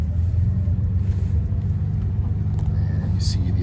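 A 1956 Jaguar Mark VII M idles in park, a steady low engine rumble close by that holds evenly throughout, with faint breathy speech in the background.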